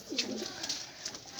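Domestic pigeons kept in a loft with their young make a short burst of low, throaty cooing at close range over faint steady background noise, with no one speaking.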